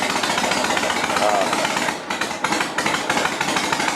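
A 1971 Harley-Davidson XLCH Sportster motorcycle engine idles nearby, a loud, steady lumpy chug with rapid firing pulses and a brief dip partway through.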